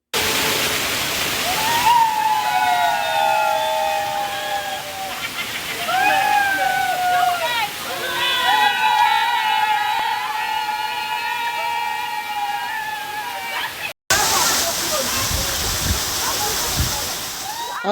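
Erin-ijesha waterfall gushing with a steady, loud broadband roar of falling water throughout, while people shout and call out over it, with a brief dropout near the end.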